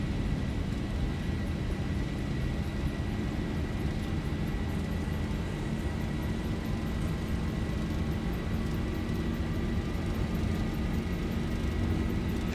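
A Boeing 737-800 in the X-Plane flight simulator roars at takeoff thrust along the runway, a steady loud engine drone with a rising whine, no talk over it.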